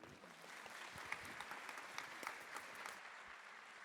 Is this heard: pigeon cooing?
no